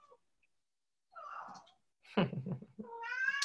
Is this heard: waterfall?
no